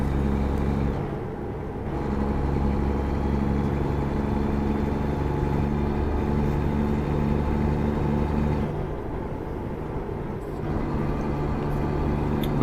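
A Kenworth T680 truck idles in American Truck Simulator as a continuous low, even drone. It sounds close and steady and holds throughout with only slight dips, and no talk rises over it.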